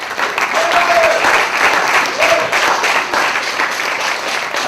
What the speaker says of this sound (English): And we can do it by clapping.